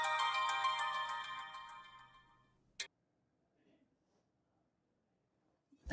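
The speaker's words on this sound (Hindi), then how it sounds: "फहद का फोन है।" A mobile phone rings for an incoming call from Fahad, a bright melodic ringtone that fades out over about three seconds, followed by faint clicks and soft handling noises in near silence.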